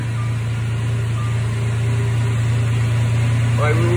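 A cold car engine, not yet warmed up, idles steadily with a low, constant hum throughout, no revving, and a brief higher tone near the end.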